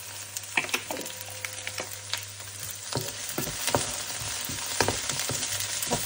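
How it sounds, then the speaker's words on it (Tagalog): Onions fry in a pan for pork caldereta, giving a steady close sizzle with scattered crackles and pops, plus a low constant hum underneath. "hintayin natin mag-brown kunti yung ating onions"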